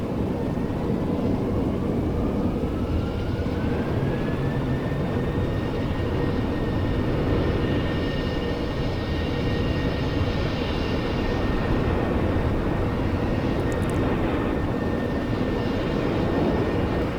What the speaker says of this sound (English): And we'll go ahead and start engine 1.